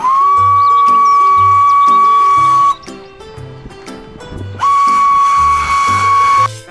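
A loud, sustained Thomas and Friends toy train whistle sounds twice, with a brief pause between, over a cheerful electronic melody.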